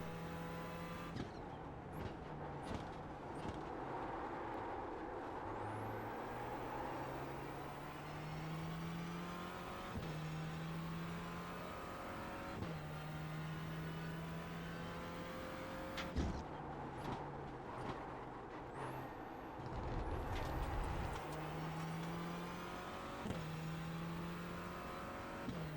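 TCR race cars in a video game race at Donington Park, engines revving and shifting up through gears as cars overtake, a steady loud drone with rising pitch sweeps, alone without talk.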